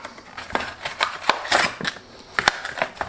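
A pair of scissors is handled and snipped repeatedly, giving a run of sharp, close metallic clicks and snips at an uneven rhythm, with no talking.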